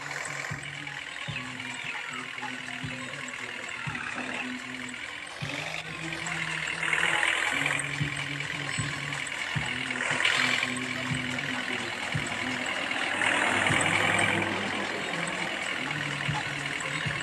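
A truck engine drones steadily while driving in the Indian Real Truck video game. The low hum shifts pitch with speed, and scattered clunks and bumps sound over it throughout.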